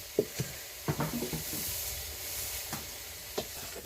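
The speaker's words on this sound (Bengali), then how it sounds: "পেঁয়াজের ভেতরে সব সবজি ঢেলে দেওয়া হলো তো এখন সব মশলা দিয়ে ভালোভাবে কষিয়ে নেওয়া হবে" Vegetables being sautéed with spices in onion and oil in a village kitchen, a soft sizzle under intermittent scraping and clattering strokes of a spatula, fairly quiet and close, with no speech.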